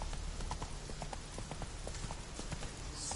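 Roach, a horse in The Witcher 3, galloping with steady rapid clip-clop hoofbeats that run continuously and close throughout.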